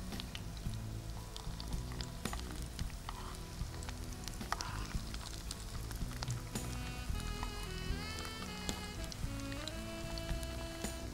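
Vada frying in oil on a flat tawa just after being flipped, giving a steady, close, crackling sizzle that holds throughout with small pops, and no voices over it.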